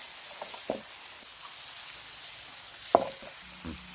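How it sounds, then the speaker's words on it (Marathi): A chopped wild vegetable (shindal makad, also called makuda) is stirred into sautéed onion, garlic and spices in a pan. There is a faint low sizzle throughout and a couple of brief spoon-stirring clatters. No one speaks. "कांदे लसूण आणि सर्व मसाले परतून झाल्यानंतर आपण अशी भाजी टाकलेली आहे त्यानंतर अशी चांगली मिक्स करून घ्यायची आहे भाजी"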